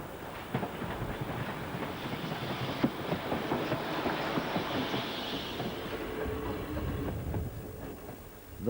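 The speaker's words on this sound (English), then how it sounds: "a PT-47, a superb express passenger locomotive still looking good on a two-coach local" A PT-47 express passenger steam locomotive in Poland hauling a two-coach local train, heard as a fairly faint, steady rumble of wheels and carriages rolling past with soft rhythmic clatter.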